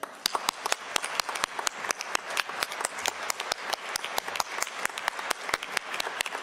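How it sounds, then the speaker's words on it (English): An awards-ceremony audience claps on and on in a steady, dense patter of many hands, moderately loud and sustained throughout, with no talk over it. "keep clapping. That's it, keep clapping."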